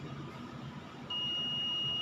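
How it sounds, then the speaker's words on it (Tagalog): A multimeter tester on an LED backlight driver board gives a sudden continuous high beep while testing a diode and capacitor, starting partway through and holding steady over faint background hiss. "Okay, so nag-beep"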